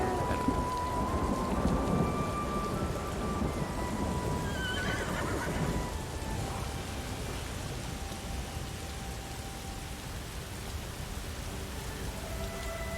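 Stormy weather in The Elder Scrolls Online: High Isle, with steady rain and low rumbling thunder filling the scene, plus a brief horse whinny partway through; dense, continuous ambience with no talking.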